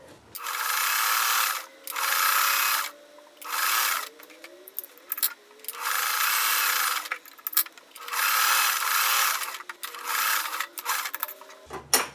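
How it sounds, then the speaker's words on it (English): A sewing machine stitches quarter-inch seams on a quilt block, running in several steady bursts of a second or two each with short pauses between them, close and fairly loud with no talk. "We're going to sew 1/4 of an inch on each side of those lines."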